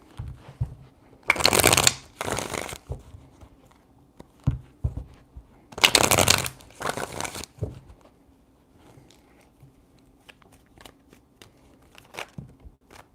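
Tarot cards are shuffled close up in two brisk riffling bursts, separated by soft taps and rustles of the deck being handled.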